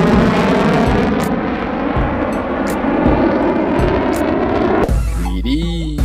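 A toy army fighter jet gives off a steady, loud synthetic engine roar that runs almost the full length, ending in a short burst of electronic tones.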